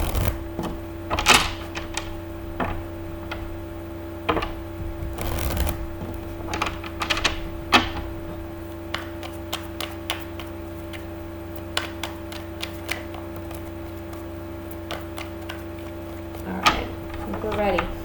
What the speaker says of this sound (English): give me just a moment while I shuffle here